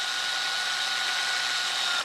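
A power drill whirs steadily, driving a screw into the frame of a full-height teardrop camper being built; a single continuous close whine that stops abruptly at the end.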